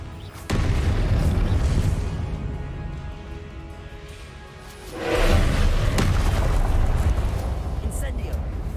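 A Confringo fire spell blast in Hogwarts Legacy, a deep booming burst that swells midway and rumbles on under steady game noise and sound effects.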